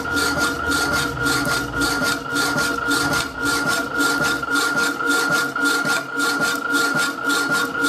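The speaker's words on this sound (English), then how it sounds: "Sounds like there might be a tooth off the blade." A saw cuts through material with a steady, rhythmic rasping stroke, close and continuous, with a regular periodic pulse that may come from a damaged or missing blade tooth.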